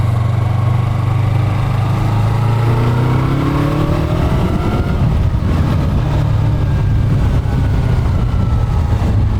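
A 2020 Yamaha YZF-R3 sport motorcycle engine hums close up while riding, rising in pitch through a few gear shifts before settling into a steady drone, with wind noise and no talking.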